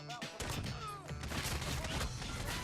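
Shotgun fire in a Call of Duty match comes as a quick burst of sharp blasts and impacts, dense and clattering over game sounds, fairly faint overall.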